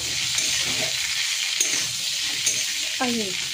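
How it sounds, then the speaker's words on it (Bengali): Spice paste sizzles steadily in a hot pan, with a few sharp scrapes of a spoon stirring it and a faint voice in the background, close up. "পেস্টটাকে একটু ভালো করে কষে নেব।"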